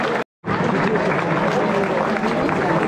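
A crowd at an outdoor running race applauds and cheers the runners, a dense, steady wash of clapping and crowd noise that runs on after a brief silent gap.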